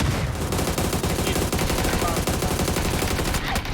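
Sustained gunfire in the battle royale shooter PUBG, a dense stream of rapid shots close and loud across the whole stretch, with a brief voice underneath near the start.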